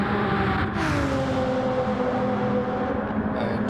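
A Toyota Supra race car in a racing video game roars along a straight, its engine a steady loud drone with rising tonal harmonics as it accelerates, joined by faint passing-car noise near the end.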